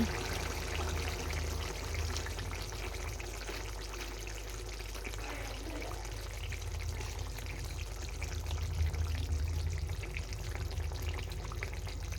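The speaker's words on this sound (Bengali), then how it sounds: "মাছের ঝোলগুলো ফুটে উঠেছে, এবার গরম মশলা দিয়ে নামিয়ে দেবো।" Fish curry boiling in a pot: a steady bubbling simmer with a constant low rumble running throughout the whole stretch, close by and without speech.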